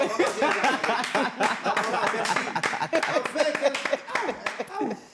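People in a studio control room clapping in quick, uneven bursts, with chuckles and laughter mixed in and voices talking over the applause.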